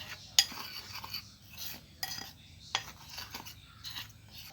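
Salt and turmeric being mixed into papad chop ingredients by hand or spoon, heard as soft intermittent scraping and clinks against a bowl, with a few sharper taps, fairly quiet.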